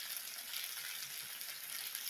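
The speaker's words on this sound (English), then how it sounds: "Again, we're going for the sizzle." Teriyaki chicken kebabs sizzling in oil on an indoor grill, a steady close hiss of frying crackle throughout, no talking.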